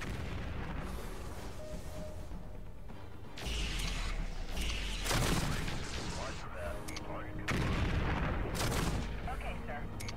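Artillery in MechCommander 2 fires in repeated heavy booms and blasts over a constant battle rumble, with voices talking through it.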